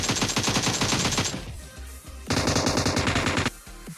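Rapid automatic AKM rifle fire in the shooter game PUBG, two loud sustained bursts of dense rhythmic shots separated by a short pause, with a brief lighter tail at the end; no talking.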